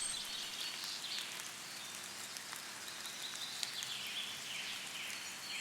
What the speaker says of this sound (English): now begin to focus on the sound of the rain